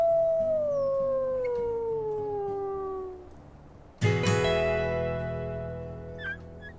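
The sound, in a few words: wolf pack howling in the distance, from a video game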